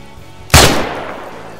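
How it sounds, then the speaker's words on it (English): The Honey Badger rifle fires a single sharp, loud shot in the video game ArmA 3, its crack dying away in a short ringing tail within a second. "Do you want to hear what this gun sounds like?"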